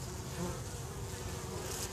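Honeybees fly in and out of a horizontal double-deep Langstroth beehive with a mesh floor, making a dense, continuous buzzing hum at moderate distance with no voices.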